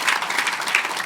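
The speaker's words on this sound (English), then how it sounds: "Can we give a round of applause?" Audience applause at an evening storytelling event, dense steady clapping close and fairly loud for about a second.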